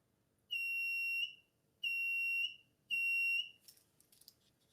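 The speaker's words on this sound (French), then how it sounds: "jusqu'à ce que le buzzer commence à s'activer" A mini metal detector kit's buzzer sounds three times, each a steady, piercing electronic tone lasting under a second with brief pauses between, followed by faint rustling.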